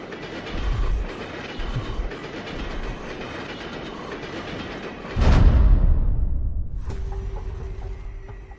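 A train runs steadily in a Hindi horror story, with a continuous rumbling roar and a rhythmic clickety-clack of the wheels. A louder surge comes partway through, then a high metallic squeal or hum rises near the end.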